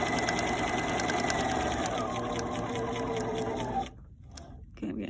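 A sewing machine stitches together the fabric pieces of an eyeglass case, humming steadily and close for nearly four seconds, then stopping before a brief restart near the end.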